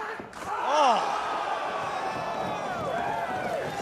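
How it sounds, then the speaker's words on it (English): Crowd at an independent wrestling match in Ring of Honor, swelling cheers and shouts from a packed room that build and stay lively, with a commentator's voice heard over the noise. "And the crowd coming alive for the filthy father."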